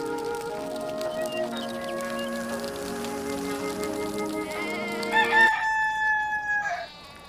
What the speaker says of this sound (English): This rooster wakes me up every single day.